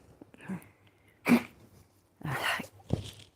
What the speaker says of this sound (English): It's all the sneezing and hacking over here.